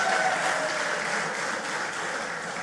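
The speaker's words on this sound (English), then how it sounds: "Give him another round of applause," Crowd applause at a political party rally in Sangre Grande, a steady broadband clapping that stays loud and continuous throughout, easing slightly toward the end.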